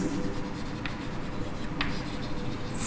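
Chalk or marker writing on a board during a chemistry lecture, a steady close scratching and rubbing stroke sequence with a couple of sharper taps, heard alone without talk.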